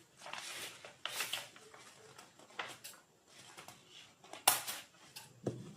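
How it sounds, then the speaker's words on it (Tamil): Scissors cut through a cloth pattern for a princess-cut kurta, snipping notches at the neck and shoulder: a quiet, irregular series of crisp snips and fabric rustles with no talking. "கட் பண்ணிட்டு நெக் வைடு கிட்ட ஒரு நாச்சஸ் கட் பண்ணிக்கிறேன்"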